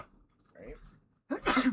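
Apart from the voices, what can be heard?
sneeze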